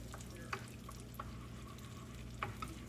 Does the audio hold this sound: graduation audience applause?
no